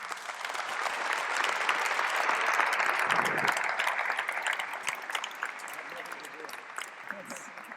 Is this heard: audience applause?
yes